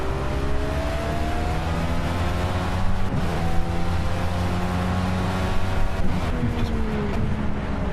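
A racing car engine droning steadily at Hockenheim in the Project Cars video game, a loud sustained whine with shifting pitch bands as the car holds speed through the lap, with no talk.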